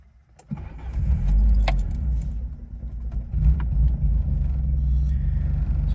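A 1987 Peugeot 205 GTI 1.9 Phase 1, warm rather than cold, is started up close by: keys jingle, the starter cranks briefly, and the engine catches into a low, steady, slightly rattly idle.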